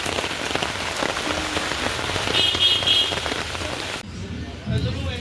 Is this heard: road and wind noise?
no